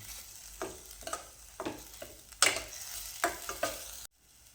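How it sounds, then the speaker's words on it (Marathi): Chopped tomato and onion sauté in a hot pan, soft frying sizzle broken by a series of distinct scraping stirs at irregular intervals, close and fairly quiet, with no talking. "हा कांदा तो चांगला मऊ होईपर्यंत आपण याच्यामध्ये परतून घेऊ"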